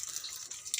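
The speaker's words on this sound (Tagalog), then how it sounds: "Nakuha og tubig sa bomba." Water pours from a pump at a rural hillside home, a brief, steady hissing splash heard close by.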